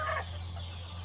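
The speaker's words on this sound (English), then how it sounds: "the hens are laying on the eggs." Hens sitting on eggs on a chicken farm, a single short, soft cluck at the start, then a low steady hum in the background.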